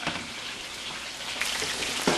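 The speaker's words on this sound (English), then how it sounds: "Back over here at the pork, we're frying up." Pieces of pork frying in hot oil for sweet and sour pork, a steady close crackling sizzle with a few louder pops, no talking.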